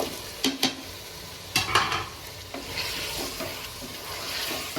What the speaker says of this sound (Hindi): अब हम इसमें मीडियम प्याज ऐड करेंगे।